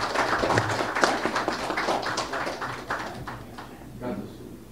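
An audience at a lecture gives a round of applause to welcome the speaker: a dense patter of clapping that peaks early, thins over several seconds and fades out near the end, with a voice faintly underneath.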